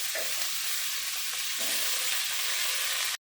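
Sliced flat beans and spinach frying in a pan for a fish-head spinach chachori, a loud, steady sizzle with occasional stirring scrapes, cutting off abruptly.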